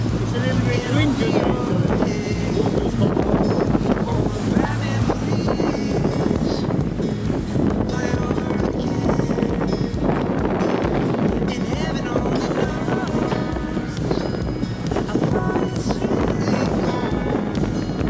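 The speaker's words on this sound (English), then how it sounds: "It's a little bit windy." Strong wind buffets a boat at sea off Norway while it approaches orcas, a loud, continuous rushing roar with low rumble, and people talk over it.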